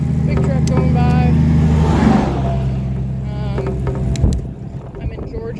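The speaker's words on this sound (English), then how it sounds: "Big truck going by." A big truck drives past on a road in Georgia, a loud rumbling engine swelling and fading with a whoosh, heard close over wind noise from a slow-moving bicycle.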